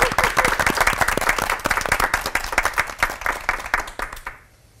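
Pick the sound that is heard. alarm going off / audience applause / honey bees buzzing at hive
audience applause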